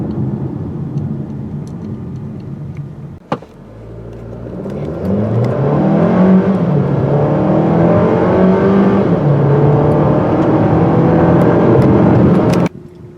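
A 2018 Hyundai Kona accelerates hard on the road: steady road noise, a brief thump, then a loud engine note that climbs and holds strong for about nine seconds before cutting off.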